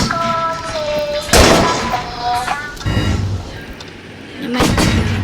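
Gunfire in the Roblox game Count Master, with a few loud, booming shots spaced seconds apart among beeping game tones and some background speech.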